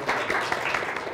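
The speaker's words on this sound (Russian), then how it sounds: "Аплодисменты Кириллу." Audience applause at a televised political debate show, a dense steady patter of clapping filling the short stretch at an even level with no voices on top.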